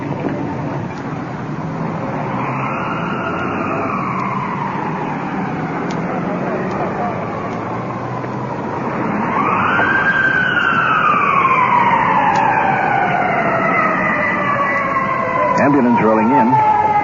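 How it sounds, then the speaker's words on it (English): An ambulance siren wails in rising and falling sweeps, growing louder partway through as it draws closer over a steady background rumble. "Ambulance rolling in."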